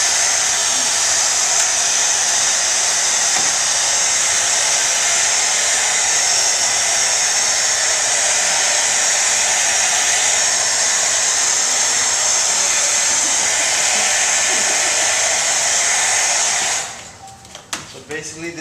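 A blow dryer runs loud and steady, close by, while drying freshly applied two-tone Venetian plaster on a wall, then cuts off near the end with a few clicks and handling noises.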